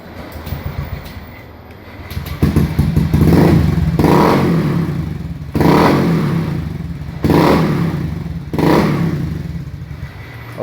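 A Honda Beat FI scooter engine with sluggish, delayed throttle response revs in repeated surges, four or five swelling vroom bursts close by, each dropping back between pulls.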